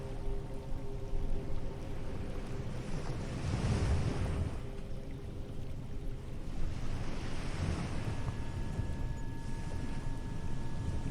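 Sea waves rolling at night, a soft continuous wash with gentle swells rising and falling, faint wind rumble underneath and a thin steady tone near the end.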